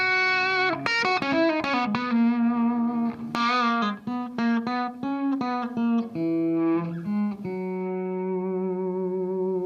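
An electric guitar through an overdrive pedal plays a run of picked notes and chords, crunchy yet clear, then settles into a held, sustained note.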